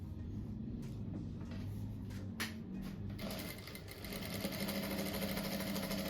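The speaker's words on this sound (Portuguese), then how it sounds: "Então daí eu vou costurar uma faixa bem no meio aqui." An electric sewing machine stitches a strip down the middle of a simple rug, giving a steady fast mechanical whir that runs through the whole stretch and rises slightly in pace toward the end.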